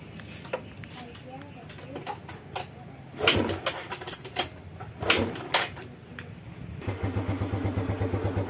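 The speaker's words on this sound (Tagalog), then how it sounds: "Panda rin natin kick starter kasi lobat. Yan, kick natin." Motorcycle with a weak, low battery being kick-started: a few scuffing kicks and brief sputtering bursts, then the engine catches and settles into a steady close idle near the end, with a voice speaking in between.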